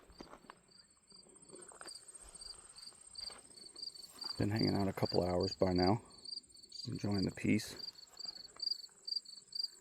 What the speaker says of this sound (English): Surrounded by crickets and bumblebees.